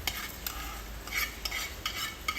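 Hot tempering is poured into a batter made from leftover cooked rice, giving a faint sizzle with soft, repeated stirring clinks, quiet and close.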